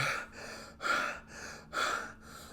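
A voice imitates heavy panting, with a few loud, rhythmic breaths in and out, close and breathy, separated by short pauses.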